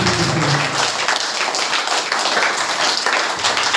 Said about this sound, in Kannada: MD ಯೂಸುಫ್ ರಹೀಂ ಮೀರ್ ಬಿದ್ರಿ ಸರ್ ಅವರಿಗೆ ಜೋರಾದ ಚಪ್ಪಾಳೆ